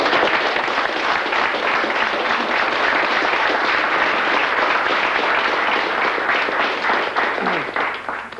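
Audience applause, a dense sustained roar of many hands clapping that holds strongly throughout, then begins to thin and fade near the end.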